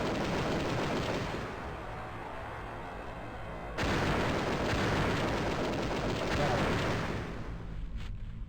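Cannon fire from the PC video game Chaos Control, a dense rumbling barrage of booming blasts that swells loud and steady, then fades near the end.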